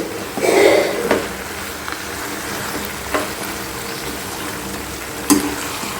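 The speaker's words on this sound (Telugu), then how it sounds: "మనం హై ఫ్లేమ్లో పెట్టినా కూడా ఈ చికెన్లో ఉన్న వాటర్ అంతా వచ్చేసి ఈ వాటర్ తోటే కుక్ అయిపోతుందండి." Chicken cooking on a high flame in its own released water gives a steady bubbling sizzle with occasional louder clinks and stirring scrapes, close and continuous.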